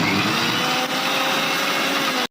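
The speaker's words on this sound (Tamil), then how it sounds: "மிக்சியில் ஒரு அடி அடிச்சிடலாங்க." An electric mixer grinder whirs loudly and steadily at close range while blending fish curry masala, a dense continuous motor drone that cuts off abruptly at the end, with no talk over it.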